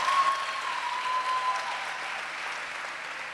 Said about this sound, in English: Let's give our candle lighters a round of applause.